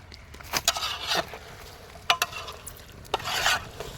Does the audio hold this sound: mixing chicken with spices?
yes